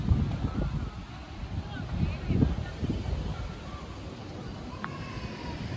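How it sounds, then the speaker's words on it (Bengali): Strong storm wind roars and buffets the microphone in low gusts outdoors near market stalls, with faint voices and scattered sounds in the background. "প্রচুর ঝড় হচ্ছে, এখন বৃষ্টি হবে মনে হচ্ছে, পুরো ভীষণ ঝড় উঠেছে"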